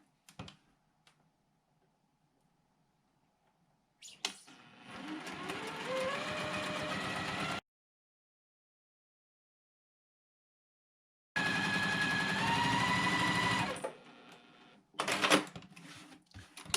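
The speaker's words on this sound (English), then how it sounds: "I'm going to go ahead and sew right on that drawn line" A sewing machine stitches a quilt block along a drawn line in two steady runs of rapid mechanical whirring, separated by a pause, with brief clicks and handling noises between and after.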